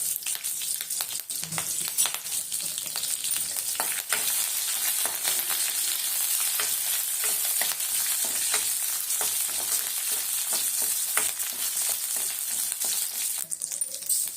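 Capsicum and turmeric fry in a pan for hotel-style shavige bath, a vermicelli dish, with a loud, continuous sizzle broken by frequent sharp scraping and stirring clicks, close up and free of speech.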